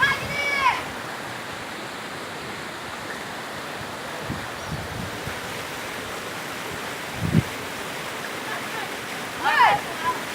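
A waterfall at Corococho in Piabetá, Rio de Janeiro, roars in a steady broadband rush throughout, with brief shouts and voices breaking through now and then.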